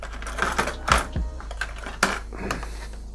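Small scissors snip plastic parts from a Honda F1 model kit sprue, several crisp clicks and sharp cuts with faint clatter on a hard surface, close and without talk.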